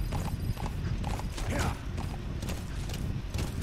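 Horse hooves clip-clop in a quick, steady trot in the video game Metal Gear Solid V, close and clear over a busy background rumble, with creaking tack.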